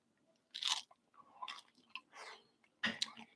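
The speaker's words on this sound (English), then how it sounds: "At least the pie crust is super crunchy." Close, crisp crunching bites into a crunchy ube pie crust, several irregular chews spaced across the moment with quiet gaps between.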